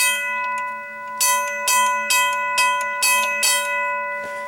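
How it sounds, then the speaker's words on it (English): A RACO mechanical bell rings in a quick series of bright metallic strikes, a hammer hitting a gong about six times with a sustained ringing tone between. "as this rings, it strikes the hammer. The hammer strikes the gong."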